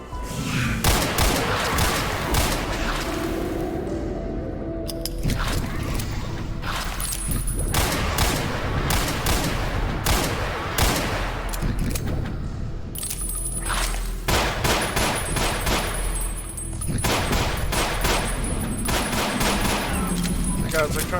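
Rapid bursts of gunfire in the video game Ashes Afterglow, aimed at gas bags, crack and boom loudly and almost continuously, with occasional metallic clangs and dings mixed into the dense shooting.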